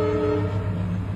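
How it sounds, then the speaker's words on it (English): A passing train sounds a loud, sustained horn over a steady rail rumble, close and continuous with no talking. "Sorry about the train, guys."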